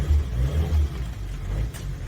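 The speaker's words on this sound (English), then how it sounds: "Anyway, cold start time." A Suzuki engine turns over on a cold start and revs in uneven bursts, a deep close rumble that rises and falls with the throttle.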